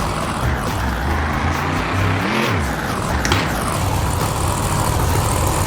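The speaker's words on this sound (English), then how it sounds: "Love the sound of this truck." Monster truck engine in BeamNG at a Monster Jam show in Grand Rapids, Michigan, a loud, constant rumbling drone that swells and shifts in pitch as it revs, with no talk.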